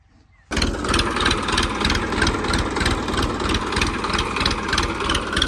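A heavy tractor engine starts up after a brief quiet moment, then settles into a steady, loud, rumbling idle with a rhythmic low-pitched chug.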